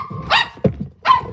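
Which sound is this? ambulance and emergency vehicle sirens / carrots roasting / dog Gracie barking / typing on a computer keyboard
dog Gracie barking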